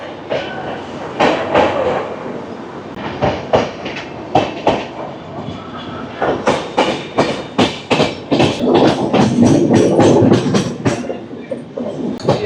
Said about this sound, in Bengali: ট্রেন ছাড়াতেই ভালো স্পিড নিয়ে নিল।